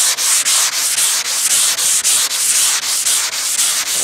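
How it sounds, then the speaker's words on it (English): A sanding block with sandpaper rubs back and forth over the body panel of a 1966 car to remove guide coat, a loud, steady, close rasping in even rhythmic strokes with no talk. "now we're gonna grab our block with the sandpaper. We're just gonna go back and forth in X pattern,"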